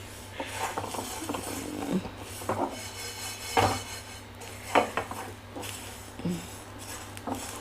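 Ingredients for a tomato pickle made with sesame oil roast in a pan, heard as repeated clinks and scrapes of a spoon against the metal pan with soft crackles, close and intermittent with no voices.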